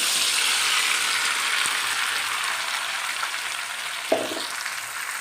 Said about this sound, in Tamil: இப்போ நறுக்கின தக்காளி பழத்தை போட்டு விட்றேன்.